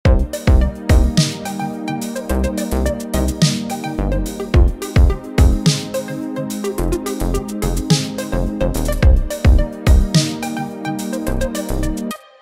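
Synthesizer music project built from stock Logic Pro X sounds: a dense, punchy electronic groove with a steady beat of sharp percussive hits under layered sustained chords, loud and continuous to the end.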